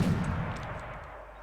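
A heavy boom from mortar and artillery fire in Wargame Red Dragon, one deep blast that rolls off and fades across the short moment.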